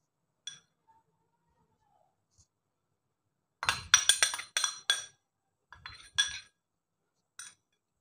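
A utensil stirs ground herbal powder and ochre powder together in a glass bowl. There are a few isolated clicks at first, then bursts of crisp clinking against the glass, close and fairly loud, with pauses between them.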